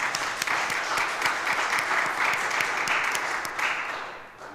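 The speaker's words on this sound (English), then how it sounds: "let's clap for him anyway" A church congregation gives sustained, dense clapping from start to finish, many hands sounding together fairly close, and it tapers off slightly in the last second.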